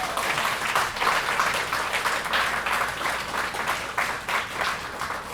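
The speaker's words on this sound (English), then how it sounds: "So Flora is in the audience if you guys want to just give her a round of applause." An audience at a live reading performance breaks into sustained applause, a dense wash of many hands clapping steadily for about five seconds. Full and continuous, with no speech over it.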